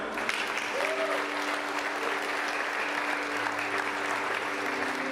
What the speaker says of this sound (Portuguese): Vamos aplaudir, né?